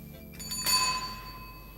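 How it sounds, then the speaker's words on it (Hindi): A bicycle bell rings once with a bright metallic ding that lingers and fades slowly, heard fairly faint over a low background hum. "साइकिल की घंटी दे दीजिए।"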